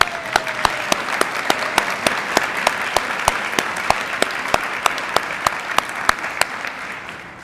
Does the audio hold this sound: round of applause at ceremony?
yes